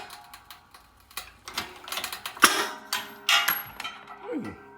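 A press forces a U-joint out of the yoke of a Chevy Silverado 2500HD driveshaft, giving close, irregular metallic clicks, creaks and ratcheting under strain, then a sharp crack as the joint breaks free, with further creaking bursts afterward.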